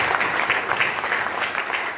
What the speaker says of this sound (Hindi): इसके लिए कम से कम एक बार जोरदार ताली।